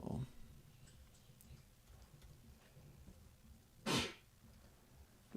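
A single sharp sneeze bursts out once near the end of a quiet stretch during a live coding session, loud and close against faint room noise.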